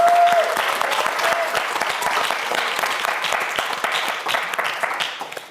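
Studio audience at the YTN Science quiz show QUIZ 킹왕짱 clapping steadily, a brief tone sounding at the start, the applause loud and even before fading at the close.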